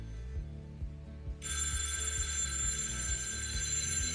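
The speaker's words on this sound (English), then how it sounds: "we have a phone call because I did not silence my phone" A mobile phone rings with an incoming call, a loud continuous bright ring tone that starts about a third of the way in and holds steady to the end over a low background hum, with no talking.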